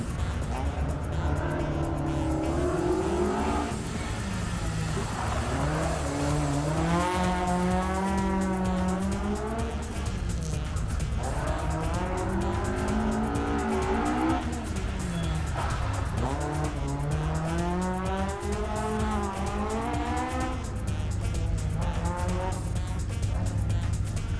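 A rally car, the H26, accelerates hard on a special stage at Champéry, its engine note climbing and dropping through repeated gear changes with loud, sustained revving throughout, as a commentator's voice runs over it.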